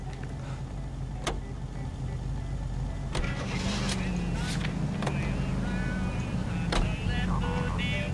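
Car driven in the video game L.A. Noire, a steady low engine drone with occasional sharp clicks and bumps, continuous at a moderate level, with a voice talking over it at times.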